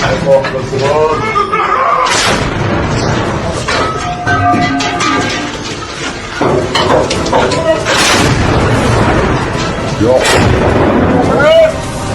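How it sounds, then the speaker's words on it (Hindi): Artillery shells fired by Hezbollah at Israeli army positions: repeated heavy booms and sharp blasts spread through the clip, mixed with voices and other battlefield noise. "हिजबुल्लाह ने अब तोप से गोले दागने शुरू कर दिए इजराइल की सेना पर।"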